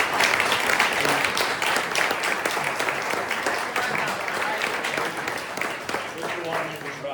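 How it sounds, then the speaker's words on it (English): Audience at a town mayoral candidates' Q&A applauds both candidates, a steady, dense clapping wash that holds for several seconds and slowly tapers, with some talk underneath. "All right, let's give both of them a big round of applause."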